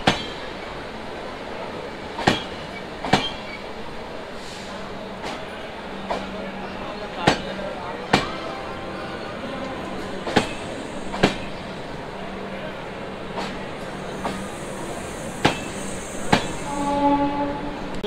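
Puri to Anand Vihar express train rolling past on Indian rails, a continuous rumbling wash with regular sharp clacks of wheels over rail joints, a faint horn tone near the end, heard close and loud.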